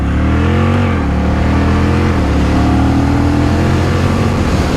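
A Honda Rebel 1100 motorcycle accelerates hard on a highway, its engine note loud, close and continuous, rising in pitch through the gears, with steady wind and road roar underneath.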